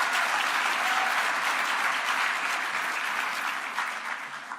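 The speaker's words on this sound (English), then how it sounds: "Round of applause for you." An audience at a national pro-life summit gives a sustained round of applause, a dense, even roar of many clapping hands that holds steady and then tapers slightly toward the end.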